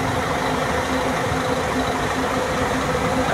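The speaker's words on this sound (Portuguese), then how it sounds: "Marco Polo Paradiso 1800 DD. Motor em chassi Scania." A Marcopolo Paradiso 1800 DD double-decker bus on a Scania chassis idles, its engine giving a steady, even low rumble with a faint hum, close by and unbroken throughout.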